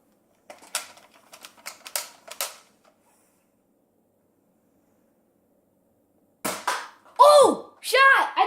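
Nerf gun firing at targets indoors: a quick burst of sharp clicks early on, then silence, followed by louder clacks and bursts mixed with excited voices near the end.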